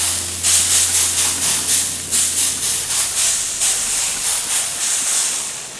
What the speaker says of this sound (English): Let's get this lid open and get the ribs spritzed.